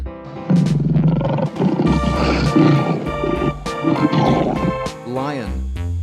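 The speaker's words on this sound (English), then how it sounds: "Lion." A lion roars loudly and close, several heavy, rasping bursts in quick succession with brief dips between them, ending in a falling growl.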